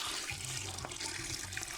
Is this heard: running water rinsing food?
yes